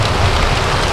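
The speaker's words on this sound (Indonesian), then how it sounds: "Camping itu suasana yang paling menyenangkan adalah pada saat hujan seperti ini" Heavy rain pours onto a camping tent in Borneo, a dense, loud, continuous patter that fills the moment with no pause or voice over it.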